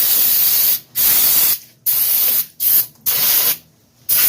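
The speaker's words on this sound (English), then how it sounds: "I ran out of can of brake cleaner and needed to grab some more" An aerosol can of brake cleaner sprays in loud, close hissing bursts during a front brake job on a Ford Ranger, with about five blasts separated by short gaps.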